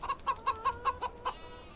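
Chickens in Farming Simulator 25 cluck in a quick series of about seven short, evenly spaced bursts, close and clear, with no talking over them.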